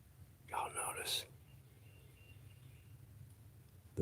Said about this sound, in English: there's one close by. That sounds like a robin.